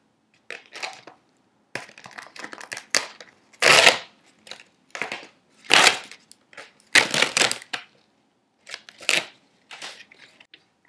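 Feathers and whiskers being ripped off a craft mask make loud, crunchy tearing bursts in separate bouts with short quiet gaps between them.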